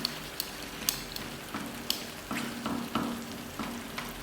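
Chicken boti roasts in ghee in a crowded frying pan, making a soft, fairly quiet sizzle punctuated by occasional light clicks and spatters, with no voices.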